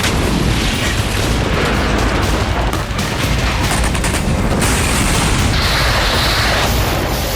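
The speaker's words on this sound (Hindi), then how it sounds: "और लगातार धमाके होते रहे।" Dense, continuous rumbling blasts and booms from Israeli bombing of northern Gaza, loud and sustained, like heavy bombardment heard from a distance with no voices.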